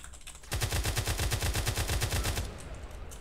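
Rapid automatic gunfire in GTA multiplayer: a fast, even burst of about two seconds of repeated shots, fairly loud and alone, followed by a quieter tail.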